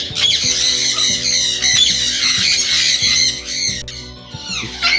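Ringneck parrots in a breeding cage squawk in loud, harsh bursts one after another, shrill repeated calls with brief gaps, close by and with no voices.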